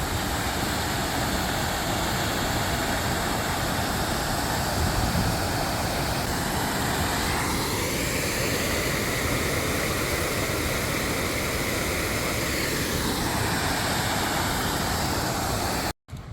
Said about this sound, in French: c'est plein d'écluses comme ça avec des cascades